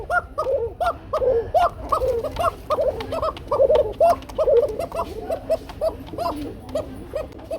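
Many breeding pigeons kept for sale coo continuously in overlapping, throaty calls, close by and fairly loud, with a steady low rumble beneath.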